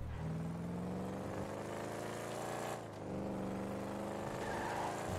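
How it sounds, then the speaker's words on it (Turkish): A car engine in GTA 5 hums and revs steadily, with rising and falling pitch and a brief dip midway, loud and continuous with no voices. "Arabanın sesi çok iyi değil mi?"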